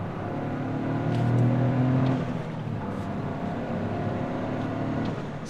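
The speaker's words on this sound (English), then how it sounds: "I love the blow-off valve." A 2023 Toyota GR Corolla's turbo engine revs from inside the car, a steady mid-level drone that swells briefly, with a few soft hissy puffs like a blow-off valve venting. There are no voices.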